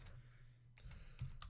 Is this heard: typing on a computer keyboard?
yes